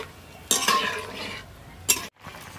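A spoon scrapes around a pan, stirring poppy seed paste into a simmering curry, with two sharp scraping strokes and soft bubbling in between, close up.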